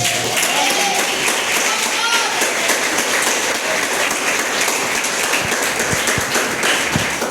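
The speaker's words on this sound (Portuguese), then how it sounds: "Aplaude a Ele." A church congregation applauds, producing a dense, steady wash of clapping that carries on loudly and evenly throughout, with a few sharper claps standing out near the end.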